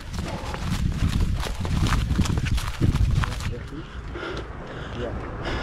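Horses clip-clop along a hill trail on a long ultramarathon route, the hoofbeats blending into a steady outdoor wash with people talking over them.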